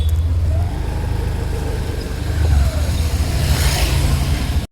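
A scooter engine runs steadily as the rider opens the throttle, a low droning hum with a slight swell in intensity partway through, heard close and continuous with no talk.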